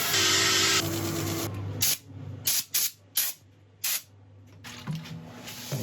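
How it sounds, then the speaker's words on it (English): An air compressor blasts dust off a wood burl during a woodturning project, one long hissing spray followed by a series of short sharp bursts, then a longer blast again, close and loud. "use a compressor to blow it off"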